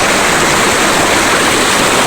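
River water flowing in a steady, loud rushing roar, dense and continuous like a nearby current over rocks, with no voices.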